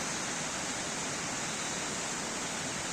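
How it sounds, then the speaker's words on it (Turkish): A waterfall roars as a dense, steady rush of falling water, loud and unbroken throughout. "Burası da şelalenin olduğu mıntıka."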